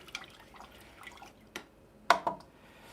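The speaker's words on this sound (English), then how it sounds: "Wash the brush." A paintbrush rinsed in a water jar during a landscape painting session, with soft swishes and a few sharp drips and splashes, close and fairly quiet.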